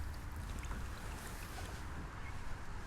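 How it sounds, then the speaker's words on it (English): Wind blows through casuarina trees beside the Kangaroo River, a steady, faint broadband rush and hiss without distinct gusts, heard alone with no talking. "listen to the wind in the casuarinas"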